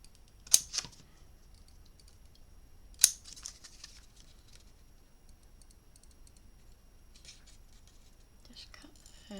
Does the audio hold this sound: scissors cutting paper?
yes